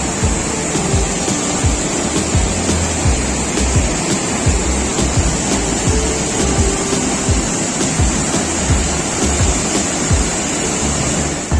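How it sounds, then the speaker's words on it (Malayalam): Kurichyar Mala waterfall in Wayanad pours with a loud, continuous roar of rushing water, dense and unbroken throughout with no voices. "ഭീകരത തോന്നിപ്പിക്കുന്ന വലിയ ശബ്ദത്തോടെയാണ് വെള്ളം കുത്തിയൊലിച്ചു വരുന്നത്"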